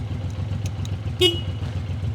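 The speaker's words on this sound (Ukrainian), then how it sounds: "Сигнал працює." A short, bright horn beep from a Suzuki Boulevard M109R motorcycle sounds once over a steady idling engine rumble, brief and close.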